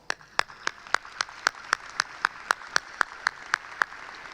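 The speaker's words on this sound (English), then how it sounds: "let's give them a round of applause" At a college spring graduation ceremony, a single person or small group claps in a steady, evenly spaced rhythm, about fifteen sharp claps over a low room hiss, moderately close and fairly quiet.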